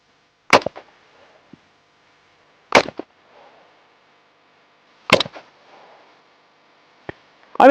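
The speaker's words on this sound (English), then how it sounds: "let's go ahead and throw some rounds down range" An Israeli FAL battle rifle firing single shots down range, four sharp, loud close reports spaced a couple of seconds apart, each trailing off into a short outdoor echo with quiet gaps between.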